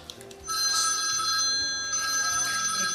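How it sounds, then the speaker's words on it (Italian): A telephone rings loudly and insistently in an office setting, its bright electronic trill repeating in steady bursts close to the microphone, with faint background sounds beneath. "Il suo telefono squilla sempre."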